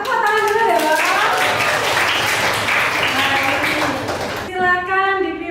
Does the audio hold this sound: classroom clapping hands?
yes